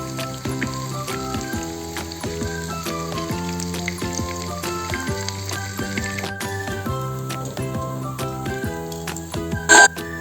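Battered mushrooms fry in oil with a soft, steady sizzle, faint beneath background music that carries a tonal melody throughout.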